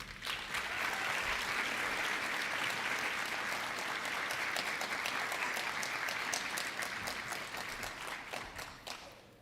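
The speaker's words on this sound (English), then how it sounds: "give a really, really big round of applause for our Masters of Ceremonies for this evening, Mr. Robel Casahun and Mr. Malachi Nisbet" Audience applause at an evening Black History oratorical competition, welcoming two masters of ceremonies; steady, dense clapping from a large crowd that holds for about nine seconds before tapering off at the end.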